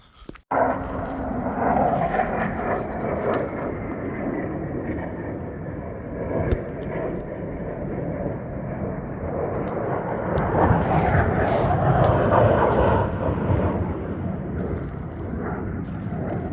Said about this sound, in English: Both of those F-35s came cruising right over through this canyon and up and over the hill.